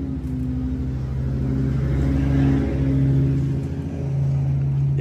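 A rebuilt engine in a 1970 VW Beetle runs and revs, a loud, close, steady rumble with a rise and fall in pitch as the throttle opens and eases, with no voices.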